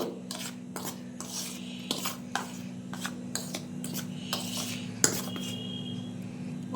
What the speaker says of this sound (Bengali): সবগুলো ভালো করে মিক্সড করে নিয়ে